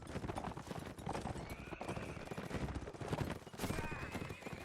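Horses galloping in a medieval battle video game, rapid clip-clop hoofbeats with whinnies over a busy clash of combat noise, continuous and fairly loud.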